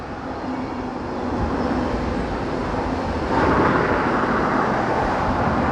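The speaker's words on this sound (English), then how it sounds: "we always get trains over here" Passing train, a broad steady rumble that swells and grows louder partway through as it draws nearer, with no voices.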